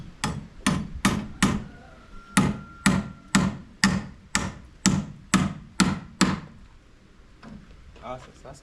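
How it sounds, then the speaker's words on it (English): Steady, forceful hammer blows drive nails into timbers being joined to form pillars on a house construction site, about fourteen evenly spaced ringing strikes, then quieter handling and faint voices. "nailing them together actually."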